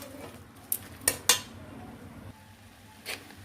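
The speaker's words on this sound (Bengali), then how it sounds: "আরও একটু নেড়ে চেড়ে নিচ্ছি" Beto greens with green chili are stirred in a pan, giving a few sharp metallic clinks of a utensil against the pan over a low, quiet background, with no talking.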